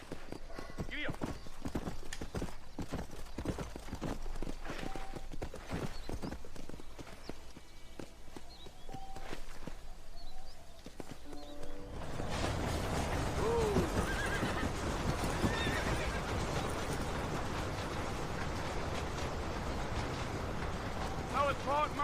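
A horse in the Red Dead Redemption video game gallops with steady clip-clopping hooves and loud whinnies, under ongoing voices in conversation.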